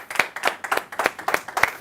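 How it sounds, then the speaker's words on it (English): Live audience applause for a comedian at a stand-up comedy night, a steady run of sharp handclaps rising and falling in quick bursts, moderately loud and close with no voices over it. "Round of applause."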